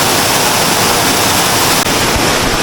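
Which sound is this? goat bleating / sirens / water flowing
water flowing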